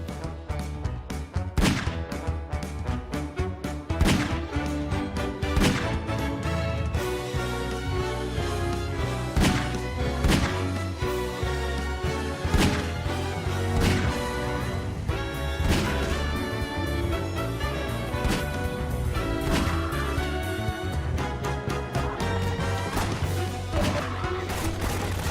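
Half-Life 2 .357 magnum revolver fired repeatedly in a montage of video game shots, loud heavy booming cracks spaced irregularly over a dense, sustained backdrop of music and game sound throughout.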